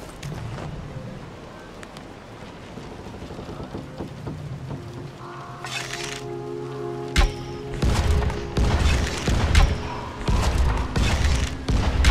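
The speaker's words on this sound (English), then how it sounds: "something exploding out there." Explosions booming in the zombie video game Dying Light, several heavy thuds and crackling bursts in the later half, loud over a rumbling game background, with a player speaking earlier.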